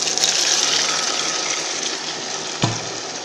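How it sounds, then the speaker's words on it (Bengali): Taro greens tip into a hot cooking pan of browned onion, green chili and bay leaf, giving a loud, continuous sizzling hiss that slowly eases, with one dull thump near the end. "কচু শাক ঢেলে দেব।"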